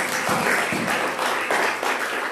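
A church congregation claps hands in praise, a dense, steady wash of many hands with slight swells in rhythm, fairly loud and continuous throughout.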